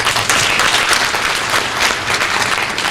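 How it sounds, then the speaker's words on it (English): An audience at a health symposium on multiple sclerosis applauds, a dense, even wash of clapping from many hands that holds steady for the full three seconds without speech. "let's give him a round of applause"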